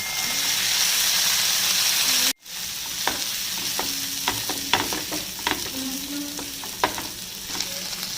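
Steady sizzling of food cooking with vinegar and a pinch of salt in a hot pan, with intermittent scraping and clinking of a utensil stirring, after a brief pause near the start.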